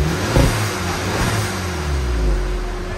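A Stage 4 VW Polo GTI engine blips and revs up close, a loud throaty rise and fall over a few seconds with no voices.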